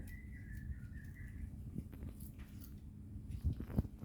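A cat chews and bites on young grass close up, giving soft, irregular crunching and tearing sounds at low volume, with a faint whistling tone early on and no talking.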